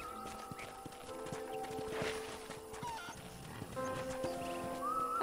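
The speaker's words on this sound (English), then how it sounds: "Horse riding is a little difficult." Horse hoofbeats from a ranch ride in the video game Red Dead Redemption: a steady clip-clop rhythm of hooves runs under sustained game music tones, with no talking.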